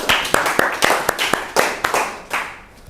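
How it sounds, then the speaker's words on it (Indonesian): A small classroom group claps for a student during a microteaching session, a short run of about a dozen distinct, fairly close hand claps in an uneven rhythm that thins out and stops. "Tepuk tangan buat Audi."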